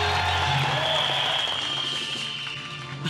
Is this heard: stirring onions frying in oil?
no